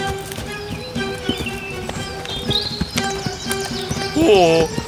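Hooves of a donkey clip-clop in a brisk regular rhythm in an animated Korean fairy tale, with light music, birdsong and a voice running over the steady hoofbeats.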